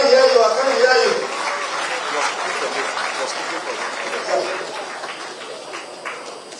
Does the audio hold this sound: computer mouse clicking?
no